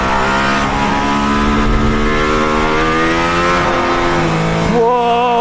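A Mercedes-AMG ONE hypercar accelerates hard on a race track, its engine a loud, close rising howl climbing through the revs, then briefly dropping and surging again at the end, with no talk over it.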